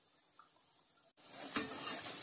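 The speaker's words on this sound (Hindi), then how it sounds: "तो सभी पकौड़े ऐसे ही फ्राई कर लेंगे अच्छा गोल्डन कलर आने तक" Moong dal pakodas deep-frying in hot oil: a soft crackle at first, then after a brief cut a louder, denser sizzle with stirring, close and steady.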